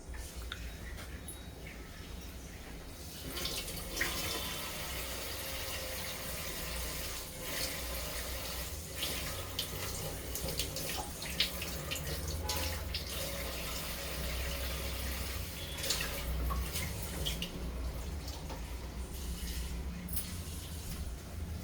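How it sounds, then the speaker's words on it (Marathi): Green wheat grains (hurda) being rinsed in water, steady running and sloshing water with faint clinks, continuous and close for about twenty seconds, no talking. "हे मी गव्हाचा हुरडा बनवून घेतलाय, तो धुवून घेते जरा"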